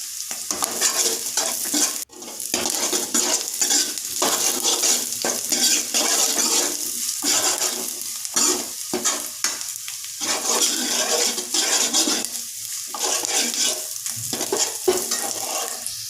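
Curry leaves frying in hot oil in a pan while being stirred, a steady loud sizzle with scraping stir strokes throughout and no talking.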